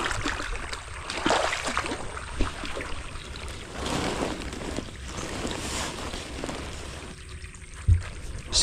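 Water pours and rushes from a stream, a steady broadband gush that swells and fades, with a few louder splashes near the end.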